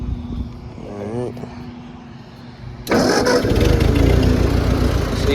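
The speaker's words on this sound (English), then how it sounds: "It's got a little 12-cylinder. You want to hear the baby run? Let's fire the Johnny up." A small 12-cylinder engine cranks and fires up, then settles into a loud, rough idle with a slight miss, running steadily after a few seconds of quieter talk.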